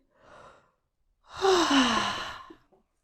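Two exhaled breaths during a Pilates exercise: a short soft one, then a longer, louder audible sigh-like exhale, close and alone with no talk.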